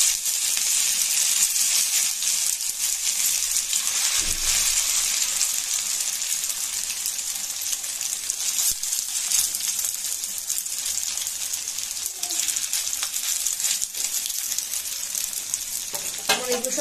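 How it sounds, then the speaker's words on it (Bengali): Maggi noodle chops frying in hot oil in a pan give a steady, dense sizzle that stays loud and close throughout, with occasional faint clinks and stirring. "তেল গরম হয়ে গেছে, এবার আমি একটা একটা করে স্ন্যাক্স এর মধ্যে দিয়ে দেবো।"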